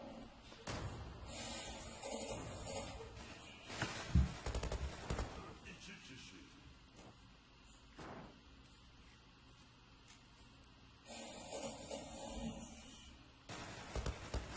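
Gunfire in the online shooter Zula: bursts of loud shots and sharp cracks come in clusters, separated by quieter gaps, with a voice speaking over parts of the action.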